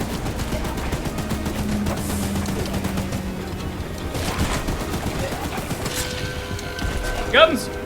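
A gun mounted on a train in the video game Choo Choo Charles fires in dense rapid bursts. The shots run steadily under a layer of in-game noise, with a louder burst near the end.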